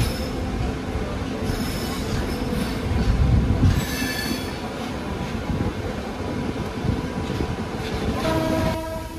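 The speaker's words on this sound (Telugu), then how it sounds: "ట్రైన్స్ అయితే మస్తు ఆగున్నాయి ఇక్కడ" Trains at a railway station near Tirupati, including WAP-4 and WDM locomotives, giving loud continuous rolling rumble with wheel squeal and faint horn-like tones toward the end.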